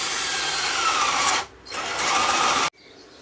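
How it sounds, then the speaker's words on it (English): Power drill boring a 16mm hole through the thin plywood side of a vintage military-style gun box, a loud continuous whine with a brief pause midway before it cuts off sharply. "I'm going to whiz a 16mm hole through the side, just to give a bit of clearance really."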